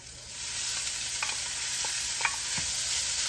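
Garlic, onions and ginger sizzle in a pan with a steady, hissing fry, broken by a few soft stirring scrapes and taps, close and alone without talk.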